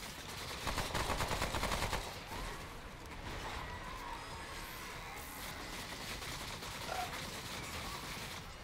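Turrets fire during a boss fight in the video game Remnant: From the Ashes, with rapid bursts of gunfire loudest at first, then a steadier stream of shots and impacts.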